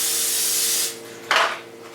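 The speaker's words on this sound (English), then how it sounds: "Before you put anything, spray some Pam in there so it comes out easy." Pam cooking spray is sprayed into hot dog forms in a home kitchen, a steady hiss for most of a second that fades, then a second short burst after a pause.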